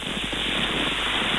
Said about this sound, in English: With that rain falling?